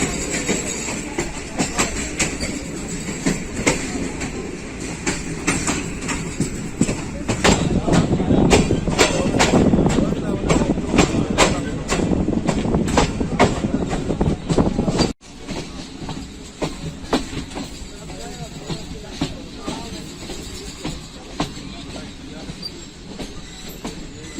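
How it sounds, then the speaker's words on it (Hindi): The Allama Iqbal Express, 9 Up, pulls into Badomali railway station in Pakistan, a long train with loud rhythmic wheel clatter and squeals close by, easing after a sudden drop near the end, with voices faintly in the mix. "nine up Allama Iqbal express इस वक्त पहुंच रही है जनाब बदोमली"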